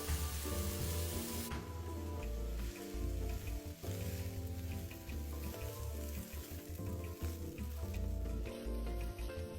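Glutinous rice is stir-fried with scallion and garlic in a wok, with a steady close sizzle and repeated scraping of the spatula against the pan, faint overall and without voices.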